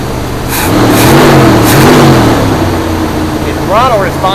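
A 1972 Buick GS Stage 1 engine revs up and settles back, a loud, close, rising and falling throaty roar with a voice speaking over it near the end.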